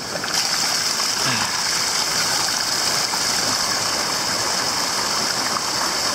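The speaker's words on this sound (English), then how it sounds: "you're going to have to open the red stopcock to drain it out" Water rushes steadily and loudly, a constant hissing flow as it drains from a water filter through an opened stopcock, with no break throughout.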